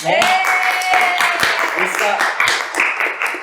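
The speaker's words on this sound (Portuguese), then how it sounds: "queria que a gente recebesse ele hoje aqui com uma salva de palmas, porque ele merece." Applause from a studio audience welcoming a guest professor on a podcast, loud clapping with cheering voices and whoops mixed in throughout.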